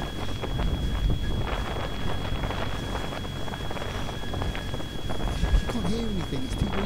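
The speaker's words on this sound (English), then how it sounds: "It's too windy. You can't hear anything." Strong wind buffets the microphone in a steady, loud rumble outdoors, with a voice shouting faintly underneath at times.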